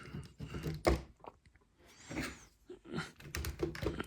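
Plastic toy sword snapping into the hand of a Playmates Classic Voltron figure: a few faint, close clicks and fumbling plastic knocks, with one sharper snap near the start.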